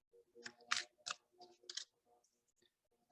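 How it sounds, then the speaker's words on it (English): Tarot cards are shuffled up close in a quiet room, a run of soft, irregular riffling and slapping bursts, each a fraction of a second long, with short gaps between them. "So I'm going to keep shuffling the cards here."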